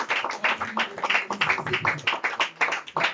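A church congregation at a Sunday fire-prayer service claps steadily in rhythmic, fairly quiet applause, many hands beating in quick repeated bursts throughout.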